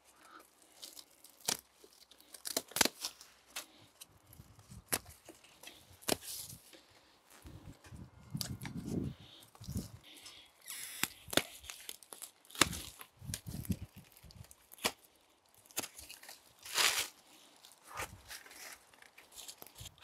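Secateurs snipping and tearing through dry stems while spring-pruning a garden hydrangea macrophylla bush outdoors, scattered cuts and crackles with rustling of twigs and leaves, close and fairly quiet.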